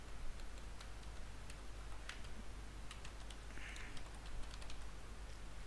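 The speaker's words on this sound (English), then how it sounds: "I'm going to type here ESXi-01 and put the credential." Someone types on a computer keyboard, a quiet, irregular run of soft keystroke clicks with no one talking.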